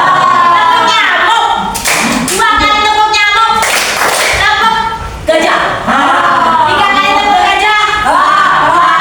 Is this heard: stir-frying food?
no